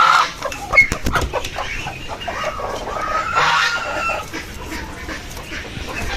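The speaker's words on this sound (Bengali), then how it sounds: "এই যে মুরগিও বের করে দিলাম" Backyard chickens, just let out of their coop, cluck and chatter continuously at close range, with a sharper squawk early on amid a busy outdoor farmyard background.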